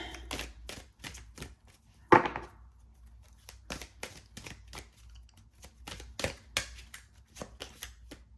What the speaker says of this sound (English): If I could shuffle this deck, that would be great.